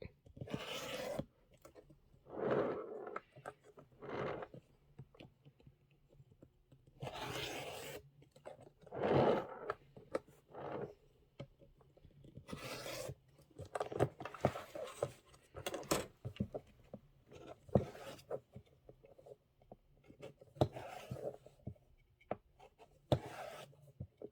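Small scissors snip and scrape intermittently while leftover stitches are trimmed from a quilt block, soft close bursts of cutting and rubbing separated by quiet pauses.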